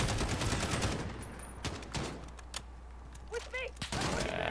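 AK rifle fitted with a large magazine in the Modern Warfare video game campaign, with bursts of gunfire among scattered distant shots and battlefield clatter, loud early then sparser, and no speech.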